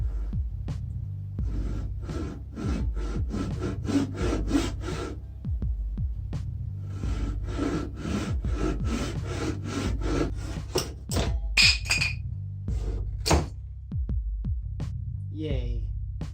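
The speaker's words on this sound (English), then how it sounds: "I'm gonna take a saw, cut these off" A hand saw works through parts of a homemade mannequin shoulder form in steady back-and-forth rasping strokes, close and fairly loud, over a low background hum, with a few sharper knocks and squeaks near the end.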